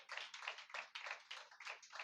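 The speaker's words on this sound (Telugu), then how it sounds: "చప్పట్లు కొట్టొచ్చుగా," An audience at a women's church meeting claps in short, rhythmic bursts, several hands together in a quick repeating pattern, faint and distant with no voices over it.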